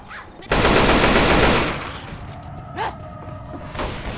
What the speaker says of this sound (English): Grenade launcher here.